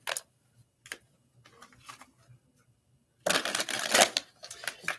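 Tarot cards are shuffled by hand, a few soft flicks and taps followed by a longer burst of rapid riffling, close and fairly quiet with no talk.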